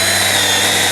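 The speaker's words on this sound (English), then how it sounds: "again drill in there" A power drill bores into a wooden 4x4 post while building a raised garden bed, a loud steady close whine lasting the full second with no talk.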